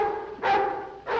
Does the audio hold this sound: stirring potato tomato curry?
no